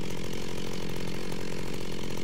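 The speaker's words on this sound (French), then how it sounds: "Donc tout d'abord, la tronçonneuse." A Minecraft chainsaw from the Industrial Craft 2 mod runs in a steady, dense buzz that holds loud and unbroken for a couple of seconds, with no voices over it.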